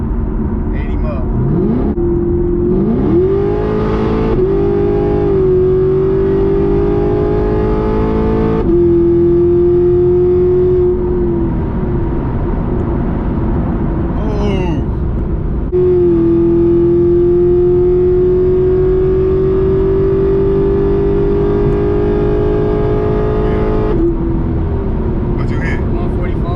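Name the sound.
Chevrolet Camaro engine revving on a dyno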